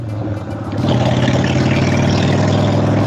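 A motorcycle engine revs during a first ride, a loud, close droning note that rises sharply partway through and holds steady with a buzzing, pulsing tone.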